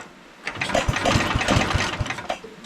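A 1968 Wheel Horse Commando 8 garden tractor engine sputtering as it tries to fire, with a quick series of close, uneven low pops and chugs over a couple of seconds.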